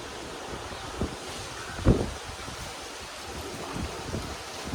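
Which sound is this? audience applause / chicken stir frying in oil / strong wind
strong wind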